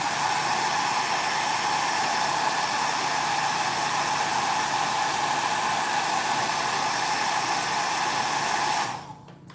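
A hair dryer blows close and loud in a steady, unbroken whoosh while drying paint on a stencilled floral box, then cuts off abruptly at the very end.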